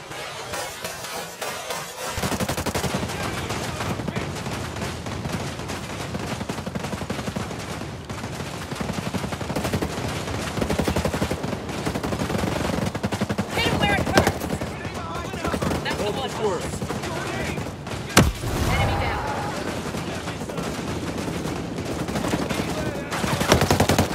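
Turret gun fire in the video game Ghost Recon Breakpoint, continuous rapid automatic bursts under a dense battle din lasting throughout, with a loud sharp blast near the end, and voices talking over it.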